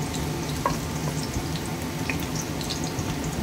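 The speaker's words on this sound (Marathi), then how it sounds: "मी फ्राय राईससाठी भाज्या भाजली त्यामुळे थोडं व्यवस्थित भाज्या भाजून घ्यायच्या" Vegetables for fried rice fry in a pan, a loud, steady, close sizzle with a few faint clinks.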